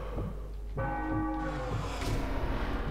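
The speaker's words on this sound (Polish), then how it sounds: "To najlepiej jak jest wykorzystywać ten bijący dzwon." Church bell ringing in the video game Sniper Elite V2, a resonant metallic strike with long ringing overtones, preceded and followed by low game ambience and soft thuds.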